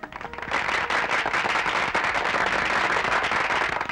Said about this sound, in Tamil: துப்பாக்கி சத்தம் கேட்காம பட்டாசு வெடிக்கிற சத்தம் கேட்கறத பார்த்தா உள்ள ஏதோ மகிழ்ச்சிகரமான சம்பவம் நடக்குதுன்னு நினைக்கிறேன்.